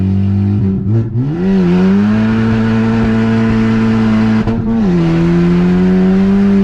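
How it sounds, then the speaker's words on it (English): A turbocharged Honda Civic Type R with a titanium inlet pipe accelerating: a loud, close engine drone that rises steadily through the gears, with brief dips at the shifts. "There's a Turbo Civic."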